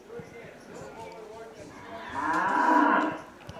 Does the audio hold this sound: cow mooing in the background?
yes